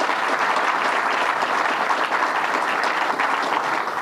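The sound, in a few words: applause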